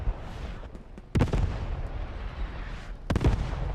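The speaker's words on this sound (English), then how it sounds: "German artillery lands perfectly on the Steward." German artillery shells in Post Scriptum land in a string of heavy, booming impacts over a constant low battlefield rumble, with one strong blast early on and another a couple of seconds later.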